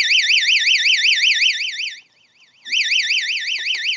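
A loud electronic warbling tone, rapidly wavering up and down like an alarm, cuts out briefly, then resumes steadily, with faint clicks near the end.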